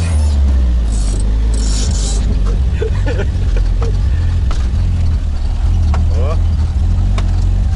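Vehicle engine starting and revving on a snowy forest road in October, a loud, rough low rumble throughout, with scrapes and a brief voice.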